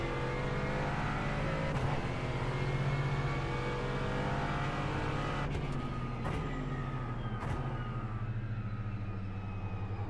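GT4 race car engine in iRacing, a steady loud drone with shifting pitch as it revs, interrupted by a few sharp gear-change clicks.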